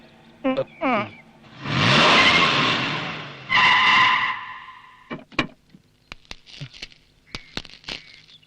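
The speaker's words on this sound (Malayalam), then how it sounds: "നീ വീട്ടിലോട്ട് വണ്ടി വിട്" A car pulls away with two loud, sustained bursts of engine and tire noise, followed by scattered clicks and thumps as it leaves. Brief voices are heard at the start.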